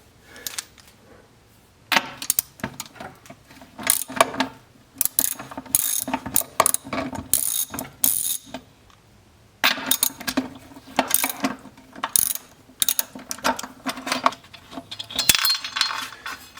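Stainless cap nuts being worked off the wheels of a retro vacuum cleaner with a ratchet, giving repeated close bursts of clicking and metallic rattling in short bouts separated by brief pauses, with no voices.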